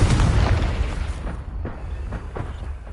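A Confringo blasting spell erupts in a Harry Potter video game at Hogwarts, one loud, deep explosion at the start that rolls into a rumbling decay with scattered crackling debris.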